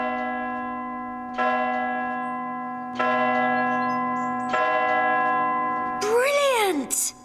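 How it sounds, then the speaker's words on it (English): A church bell rung by tugging its rope, sounding three loud, resonant strikes about every one and a half seconds, each ringing on and fading, followed by a brief excited voice. "This rope leads up to the bells, and I give it a good tug to ring them"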